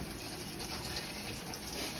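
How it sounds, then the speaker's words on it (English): RV antifreeze and water purging from a camper faucet during de-winterizing, a steady, fairly faint gushing hiss of running water with no breaks. "RV antifreeze is starting to purge."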